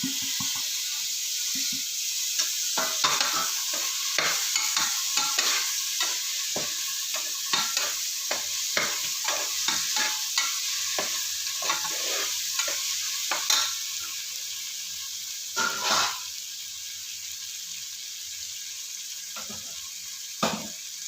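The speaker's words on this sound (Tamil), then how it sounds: "இதையும் ஒரு 2 நிமிஷம் வதக்கிக்கலாம்." Chopped vegetables and tomato sauté in a pan for vegetable biryani. A steady sizzle runs throughout, broken by repeated scraping strokes of a spoon stirring the mix.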